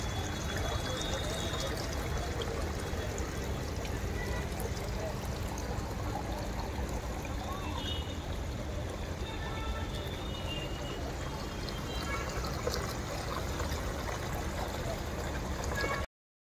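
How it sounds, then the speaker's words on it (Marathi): Decorative water fountain cascading as a small waterfall at a busy art and craft exhibition, a steady continuous splash and pour with crowd chatter and voices in the background throughout. "धबधबे बघा, वॉटरफॉल."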